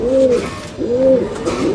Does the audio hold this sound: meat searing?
no